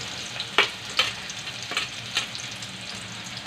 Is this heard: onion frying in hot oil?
yes